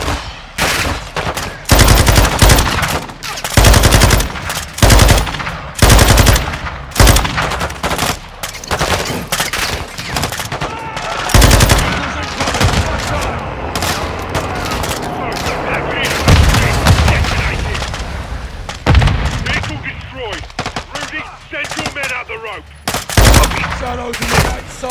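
Heavy gunfire from the Modern Warfare II video game during a prison-break mission: rapid automatic bursts and single booming shots come in dense, irregular volleys with short pauses, loud and close throughout.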